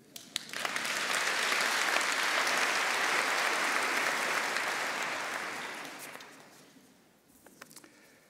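A hall full of people at a university centenary celebration bursts into applause, a thick roar of clapping that swells quickly, holds for several seconds, then fades away, leaving a few scattered claps near the end.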